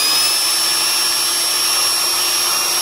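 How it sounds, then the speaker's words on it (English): A small grinding stone works against a cast iron cylinder head, making a continuous, loud, even whine with steady high tones and no pauses across the short stretch. "I just use the stone to grind off a little bit like that"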